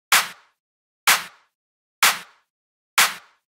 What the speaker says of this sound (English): There is also one layer of the clap on which I added an EQ and Oxford inflator.